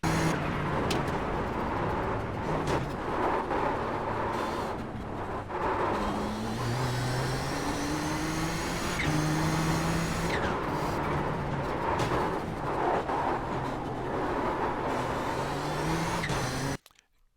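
A video game race car engine, a Nissan GTP ZX-T at Mount Panorama, whines and revs continuously, its pitch climbing and dropping with each gear shift, loud and close throughout.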